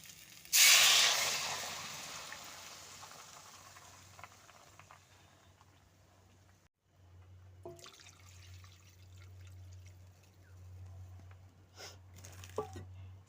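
Watery mustard paste pours into a hot pan of frying potatoes with a loud burst of hissing that slowly dies down, then bubbling and simmering resumes with a few clinks, under a low background hum.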